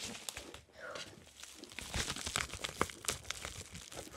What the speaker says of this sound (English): unpackage my new book called Dog Man for Whom the Ball Rolls